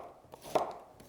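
A knife slicing through a carrot, giving one soft, brief cut against a board in a quiet setting.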